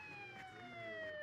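A cartoon emergency siren wails in steady descending tones, loud and continuous over a faint background for about a second, with no talking.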